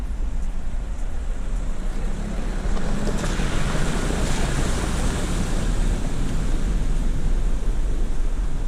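A 4WD vehicle pushes through a small water crossing on a bush track, giving a steady roar of churning water and engine mixed with wind noise, loud and continuous, no speech.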